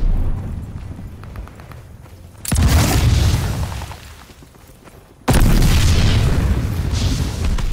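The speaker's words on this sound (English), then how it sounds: "Allies calling a mortar barrage." A mortar barrage in the World War II shooter Call of Duty: Vanguard, with two loud, sudden booming impacts a few seconds apart. Each blast rumbles and slowly fades over low background battle noise.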